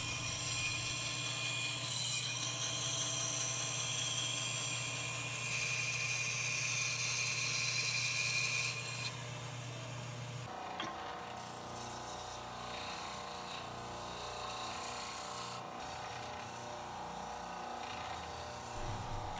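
Jigsaw cutting a wooden clamp handle, a loud continuous buzzing saw whine that shifts pitch partway through as the cut changes, close and alone.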